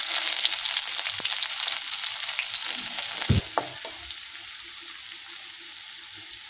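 Onions sizzle steadily in hot oil in a pan with garlic while chana dal chutney is cooked, a dense continuous fry that stays close and fairly loud, with a few stirring scrapes partway through.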